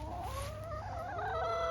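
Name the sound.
chickens clucking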